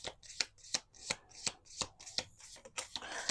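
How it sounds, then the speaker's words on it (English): A small square oracle card deck is riffle-shuffled up close, giving a quick run of crisp, papery snaps and flutters in a steady rhythm, with no talking. "One more shuffle."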